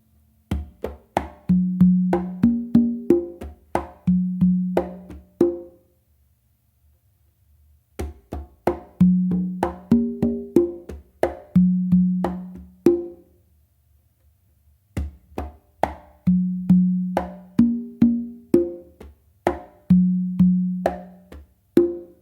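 Tumbao on conga-type hand drums, played close and crisp as a repeated pattern of sharp slaps and open tones with a few deeper ringing strokes, three times through with short silent gaps between them.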